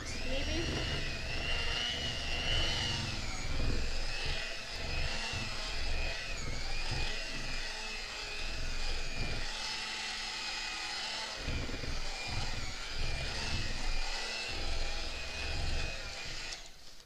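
An electric mixer beats thick homemade cake batter from scratch, giving a close, continuous whirring motor drone that wavers slightly in pitch and carries steadily for the whole stretch.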